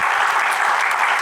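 Brief burst of dense, loud crowd applause from a live talk audience, a steady hiss of many hands clapping at once.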